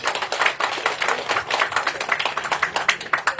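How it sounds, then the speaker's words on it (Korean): A crowd at the outdoor opening ceremony of a park golf course claps steadily for a few seconds, dense overlapping applause with no voices, moderately loud and close. "저희 내빈께 큰 박수 한번 드립니다"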